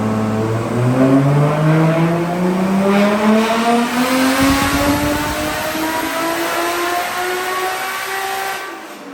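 An 800 hp turbocharged RB25DET car pulls hard in a roll race at Pocono Raceway, engine pitch climbing through several gears with brief dips at each shift, loud and close with a turbo whistle on top.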